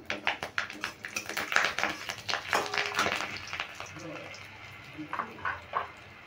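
Radhuni seeds and a green chili hit hot oil, giving a soft, steady sizzle with light clinks of a utensil against the pan, fairly quiet and close.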